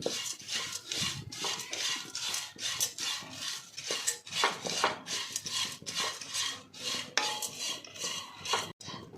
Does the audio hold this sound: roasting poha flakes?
yes